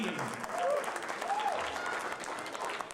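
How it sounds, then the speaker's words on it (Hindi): Audience at an Independence Day celebration applauds, dense sustained clapping filling the whole stretch, with a few faint voices and whistles mixed in. "बहुत ताली आप सबके लिए।"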